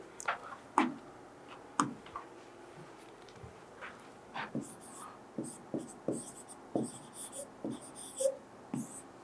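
Marker or chalk strokes on a classroom board during a Class 10 physics lesson, a string of short scratchy taps and squeaks in an irregular rhythm, fairly close and quiet, with no talking over them.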